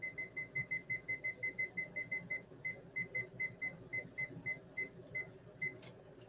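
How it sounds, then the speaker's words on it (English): A digital timer beeps in steady rapid pairs of high electronic tones, close and fairly loud over a quiet room, with a brief click near the end. "let me start my timer"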